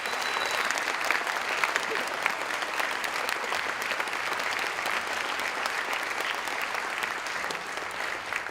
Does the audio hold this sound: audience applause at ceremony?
yes